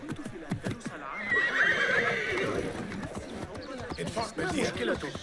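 Horse neighing and whinnying with clip-clopping hooves in the video game Assassin's Creed Mirage, a loud whinny over busy game ambience, with a voice talking intermittently in German over it.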